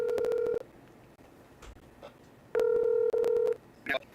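Several bursts of telephone keypad tones as a phone number is dialed, loud and close, with two groups of beeps separated by a quiet stretch and a faint voice near the end.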